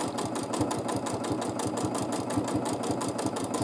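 A sewing machine stitches steadily and rapidly through free motion quilting of feathers and swirls, its needle clatter forming an even, continuous rhythm close by with no talking.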